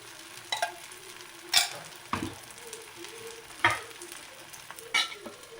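Akki rotti (rice flatbread) cooking in oil and ghee on a pan, with a soft steady sizzle interrupted by several sharp clinks and scrapes of a utensil against the pan.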